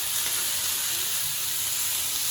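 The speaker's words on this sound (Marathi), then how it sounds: "आता असे करत आपण सगळे पीस फ्राय करून घेऊया." Chicken pieces for a homemade tandoori-style fry sizzle steadily on a hot tawa, a close, bright, unbroken hiss of frying oil with no talk.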